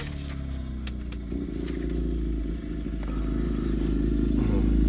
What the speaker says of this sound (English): it's a loud motorcycle coming by